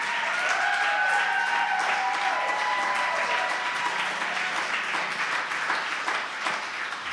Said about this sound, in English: Clap your hands for the men in here.